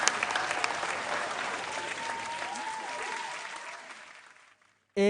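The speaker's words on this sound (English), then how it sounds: "Please, a round of applause to the contestants again." A studio audience claps for the contestants of a televised school quiz competition, steady dense applause that gradually thins and fades out before a brief burst of sound at the very end.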